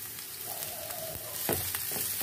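Mushrooms stir-frying in a pan with oil and golden minced garlic, a continuous close sizzle with a few stirring scrapes and clinks of the utensil against the pan, no voices.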